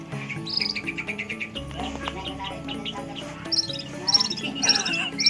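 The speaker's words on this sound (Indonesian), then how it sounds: "Wah, iki kenari iki." Bright, rapid trilling birdsong, like a canary singing, with repeated warbled phrases over other chirping birds and insects, and a voice talking faintly underneath.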